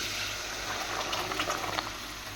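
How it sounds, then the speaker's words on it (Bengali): Water boiled in a bowl and poured into fried spice paste for a pabda fish curry bubbles and hisses in the pot, a steady close boiling sizzle with small pops throughout. "এবার আমি একটা বাটিতে জল ফুটিয়ে রেখেছিলাম, সেই জলটাও দিয়ে দিলাম"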